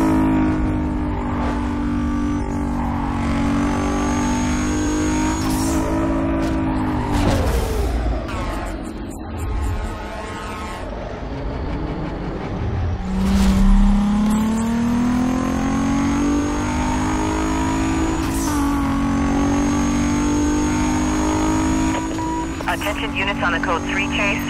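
A white Toyota Supra in Need for Speed Carbon howls at high speed, engine pitch climbing and dropping through shifts, loud and continuous under police radio chatter.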